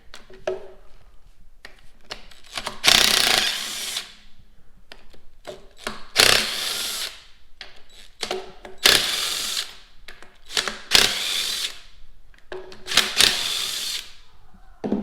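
Power tool bursts loosening the pump bolts on a 4L80E automatic transmission during teardown, about five loud, separate whirring runs of one to two seconds each, with quieter clicks and handling noises between them and no talking.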